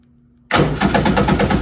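A mini jet boat engine, not hooked to anything, suddenly fires after a moment of quiet and settles into a loud, close, throbbing run.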